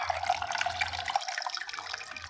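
Cooled boiled salt water being poured over eggs, a steady close splashing trickle that runs continuously with no voices over it.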